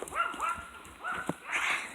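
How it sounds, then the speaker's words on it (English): A neighbor's dog barks from a distance in a few short, sharp yaps spread across two seconds, fairly faint against outdoor background noise. "It's just a neighbor dog."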